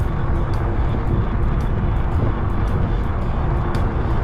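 A car passing on a lakeside road near Grapevine Lake, heard as a steady broadband rush of tyre and engine noise mixed with wind, moderately loud and sustained.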